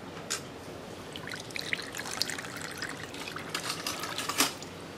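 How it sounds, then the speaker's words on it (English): Water poured into a pan holding sugar for a syrup, a soft close trickle and splash that runs steadily, with a few brighter splashes near the end. "Add 2 cups of sugar to a pan with 2 cups of water."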